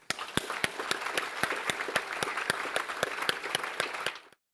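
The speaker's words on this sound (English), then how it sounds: "Let's give them a round of applause." Audience applause honouring community sector leaders at a gathering, a loud steady round of many hands clapping with sharp individual claps standing out, ending abruptly.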